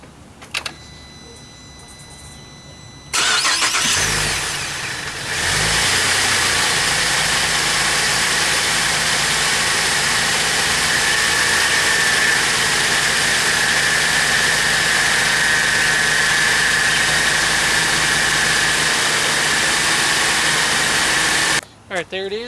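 A Pontiac G8 V6 engine cranks and catches after a belt change, then settles into a steady, loud idle heard up close for most of the stretch, cutting off at the end.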